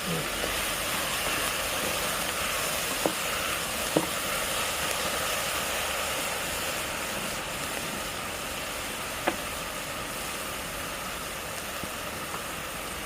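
Onions sautéing in a pan for Kerala chicken curry, a steady soft sizzle throughout with a few faint clicks of stirring.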